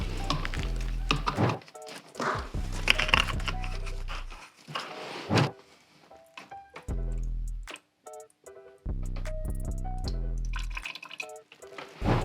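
Grey automotive primer poured into a spray gun cup, a bursty liquid stream with dripping and splashing broken by brief pauses and light clinks, quiet and close.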